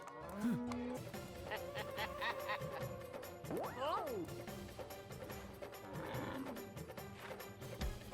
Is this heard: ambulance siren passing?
no